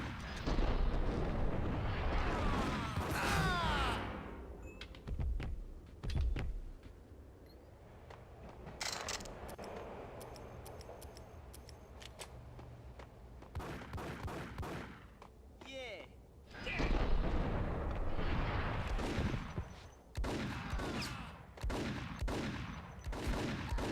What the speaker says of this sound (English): I can turn up those gun sounds